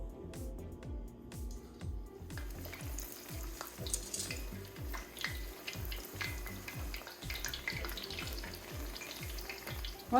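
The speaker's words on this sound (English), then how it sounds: "I'm just going to drop my fish into my batter and then in some hot oil" Battered fish frying in about two inches of hot canola oil in a large cast iron skillet, a steady loud sizzle and crackle running the whole time, with rhythmic low pulsing underneath and no talk.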